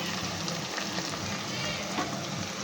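Okra (bhindi) frying in a pan, giving a dense, steady sizzle with soft crackles and the occasional stir, close and continuous at moderate volume.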